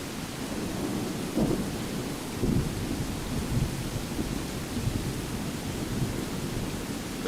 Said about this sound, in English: The thunder seems to be subsiding just a little bit.